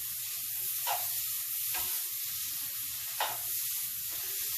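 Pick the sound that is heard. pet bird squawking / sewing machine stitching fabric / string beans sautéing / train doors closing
string beans sautéing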